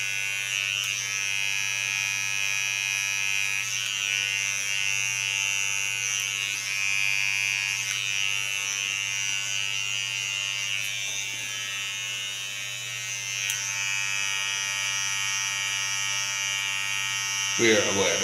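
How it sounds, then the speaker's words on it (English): A small Kiona hair clipper trims the under hairs of a short pixie cut, giving a steady close electric buzz with a low hum that runs without a break for the whole stretch. "Take my small Kiona clipper and get rid of the under hairs."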